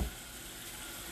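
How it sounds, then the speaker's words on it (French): Bell peppers added to a hot pan for a vegetable and chicken pasta, giving a steady dense sizzle of frying throughout the short moment, with no voice. "à partir de maintenant, je peux rajouter les poivrons."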